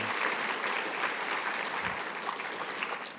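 An audience at the Keith Davis U-Turn award ceremony claps steadily throughout, a moderate, even applause from a room of people with no talk over it.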